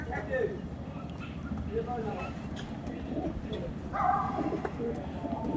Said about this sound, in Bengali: ভালো ভালো পায়রা দেখুন পুরো সাদা পায়রা একদম